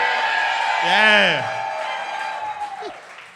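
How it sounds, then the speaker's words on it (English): A comedy club audience cheers and applauds at a live show, a sustained crowd roar with a whoop, while a voice talks over it. "y'all start cheering for him getting a shirt"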